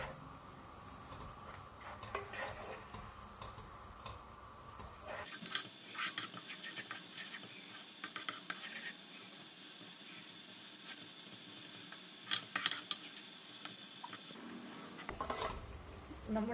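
A spoon clinks and scrapes steadily in a pan as grated coconut is stirred into jaggery syrup, soft repeated ticking strokes with a few louder taps, fairly quiet and close.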